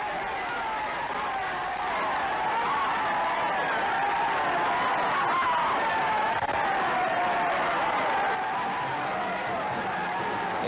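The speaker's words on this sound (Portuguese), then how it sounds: "os aplausos redobram" Crowd in Minas Gerais applauding the president's open-car procession along Avenida Afonso Pena, a distant, continuous wash of clapping and murmuring that holds steady throughout.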